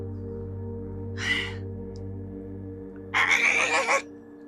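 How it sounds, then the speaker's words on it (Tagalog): A crow-like bird gives two harsh, raspy morning calls, a short one followed by a longer, louder one, over a steady low background hum. "Isang ibon lang pala."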